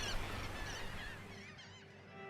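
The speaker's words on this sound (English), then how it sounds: "Birds nesting in Breton Island." Nesting birds on Breton Island, a small barrier island off the coast of Louisiana, give a steady chorus of honking and overlapping calls over a broad outdoor wash.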